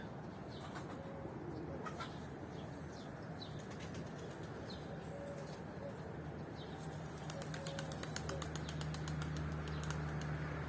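Tumbler pigeon flying during a somersault test, with soft repeated wing flaps and faint coos heard at a distance, quiet and airy, with no talking.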